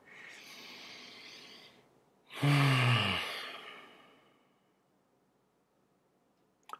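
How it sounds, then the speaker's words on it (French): A slow, deep breath: a soft inhale, a short pause, then a louder, longer exhale that trails off into quiet, close to the microphone. "prends une grande respiration"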